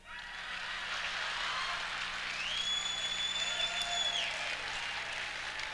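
Audience applause at an awards ceremony honoring musicians and a baseball Hall of Famer, steady sustained clapping from a large crowd filling the whole stretch, with a faint tone sliding in partway through.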